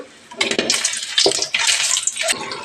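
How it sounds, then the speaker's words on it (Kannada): Water is poured into a pan of frying masala with tomato and green chilli, a loud splashing sizzle that comes in uneven bursts, close by, with no talking. "ಇವಾಗ ನಾನು ನೀರನ್ನ ಸೇರಿಸ್ತೀನಿ"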